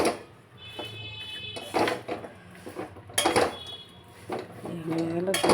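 A metal spoon scrapes and clanks against a cooking pot while curry is stirred, in uneven bursts of clatter with faint voices in between.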